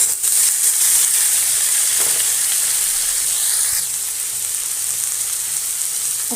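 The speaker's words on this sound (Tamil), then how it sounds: "சுண்டல் போட்டுக்கிறேன்." White chickpeas for channa sundal hiss and sizzle loudly in a hot pan, a dense, steady frying noise close up that eases slightly toward the end.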